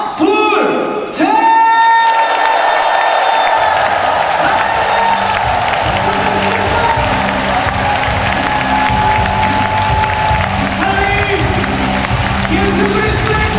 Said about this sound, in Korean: 우리 주님 앞에 박수와 함성 올려드립시다.